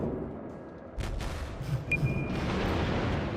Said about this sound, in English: See if we can lead these shots onto this destroyer.